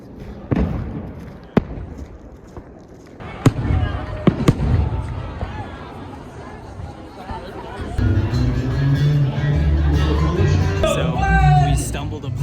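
Fireworks at an outdoor show in Big Sky, Montana, with sharp loud bangs and thumps at first, then crackling and rumbling bursts. A crowd chatters and cheers throughout, and people talk nearby.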